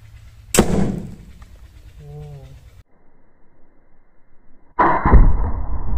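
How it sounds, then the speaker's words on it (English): A homemade airgun firing a heavy projectile on a rapid release of pressurized air through an opened valve: a sharp, loud broadband blast, then a quieter stretch and a second strong hissing burst. "As I will open this valve very quickly, all the air, pressurized air, will try to escape from this side"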